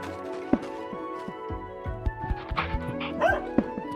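A dog in the video game Core Keeper barks and yips repeatedly in short, uneven bursts, with occasional whimpers, fairly close and loud over faint game music.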